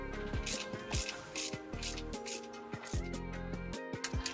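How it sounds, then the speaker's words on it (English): A ratcheting torque wrench clicks steadily as it tightens the belt tensioner bolt on a Subaru WRX STI during a timing belt job, a close, fast series of sharp mechanical clicks with no talking. "Then torque down the belt tensioner bolt until it touches the piece of tape we put on earlier."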